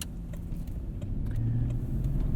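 A Toyota 4Runner V8 idles while warming up, a steady, muted low rumble with faint rises in engine tone and a few light clicks, close by and with no talking.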